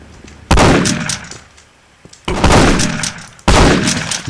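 Three loud, sharp shotgun blasts in the video game Postal 2, each a sudden broadband bang trailing into a decaying echo, spaced roughly two seconds apart with no voices over them.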